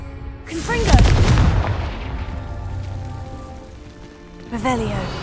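Confringo blasting spell in Hogwarts Legacy: a loud whooshing burst and explosion near the start that fades over a second or two into rumbling ambience, then a second whooshing burst near the end.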